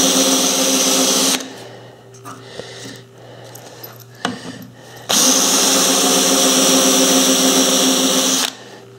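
A power drill spins a homemade mandrel for Christmas ornaments in two loud whirring bursts, with quieter clinks and handling sounds between them.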